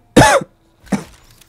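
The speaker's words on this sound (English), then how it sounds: "Terrible cough." A person gives a single loud, harsh cough close to the microphone, followed a moment later by a softer second cough or throat clearing, with silence around both.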